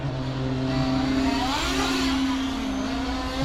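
A LADE88 S88R radio-controlled motorcycle runs continuously with a high, whirring electric drive, its pitch rising and falling as it speeds up and zigzags, heard close and loud.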